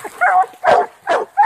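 Hunting dogs bay while treeing their quarry outdoors, four loud, drawn-out barks and howls in quick succession, close to the microphone with short gaps between them.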